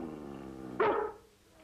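A collie gives a single short, loud bark, close by, breaking a quiet background and fading off quickly.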